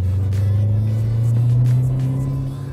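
BMW 7 Series with a new exhaust, a steady deep low rumble close by, sustained and loud with slight swells, no talking over it.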